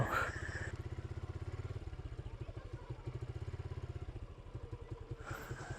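Motorbike carrying three riders along a bad, muddy road that makes it skid, its engine chugging steadily and close throughout, with brief louder bursts at the start and end.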